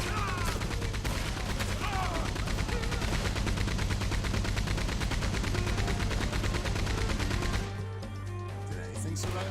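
Dense, rapid video game gunfire in a street shootout in Saint Denis rattles on continuously and loudly for several seconds, then cuts off into quieter ambience.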